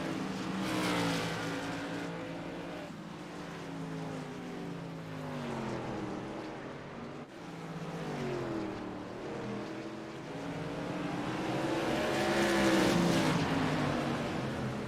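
Modified stock cars race around Concord Speedway in a TRS Tour Modified Series event, a loud, continuous roar of engines with rising and falling pitch as the pack passes.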